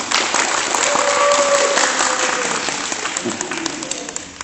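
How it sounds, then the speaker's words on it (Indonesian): Students at an Islamic boarding school quiz competition clap for all the teams in a brisk burst of applause that thins out toward the end, with faint voices underneath. "tepuk tangan dulu untuk semua regu"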